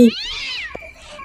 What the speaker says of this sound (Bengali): ওইটা বিড়াল বিড়াল কাঁদছে